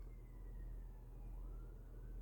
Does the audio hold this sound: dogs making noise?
no